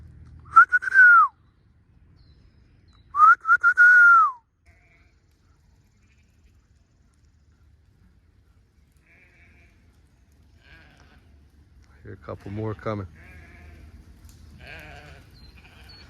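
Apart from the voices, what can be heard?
sheep bleating as they are called to barn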